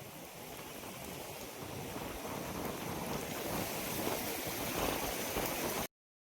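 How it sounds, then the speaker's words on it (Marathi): The main waterfall at Adai hills on a windy day gives a dense, steady roar of rushing water, close and unbroken for about six seconds before it cuts off to silence. "आणि हे बघा इकडनं चालू होतो मेन धबधबा."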